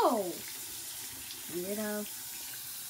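A tap runs steadily for washing, a continuous hiss of water close by, while a couple of short voiced utterances rise over it.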